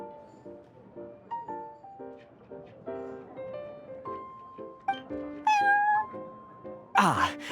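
The cat Prince meowing repeatedly in Genshin Impact, a series of short, close, tonal meows in an uneven rhythm, rising to a higher, more drawn-out cry near the end and a brief sharp game chime.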